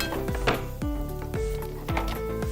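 Masala seasoned with chili powder is stirred and sautéed in a pan, a spatula scraping and clinking against the metal in a repeated rhythm roughly every half second, close and clear with no voices.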